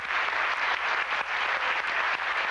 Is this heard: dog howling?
no